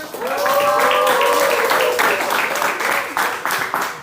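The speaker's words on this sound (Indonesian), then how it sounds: "Aplaus buat kalian semua" A class of high-school chemistry students claps at the close of a lesson, a dense burst of applause from nearby with voices cheering and calling over it throughout.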